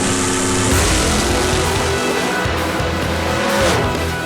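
Camaro drag race cars at full throttle on a drag strip, a loud, continuous engine roar that holds steady and close throughout the short burst.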